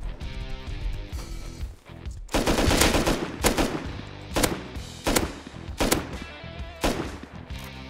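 Automatic gunfire in the survival game Rust rattles out in several sharp, loud bursts separated by short pauses, with a brief quieter lull near the start.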